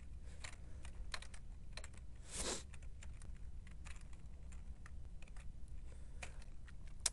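Faint, steady typing on a computer keyboard while setting tabs in a document, a continuous run of light clicks with a brief louder rustle in the middle, no talk.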